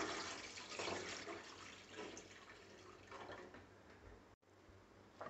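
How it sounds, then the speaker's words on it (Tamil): Water pours steadily into a pot over eggs in a continuous splashing rush, with a short break near the end. "முட்டைக்கு மேலே தண்ணி ஊற்றிக்கலாம்"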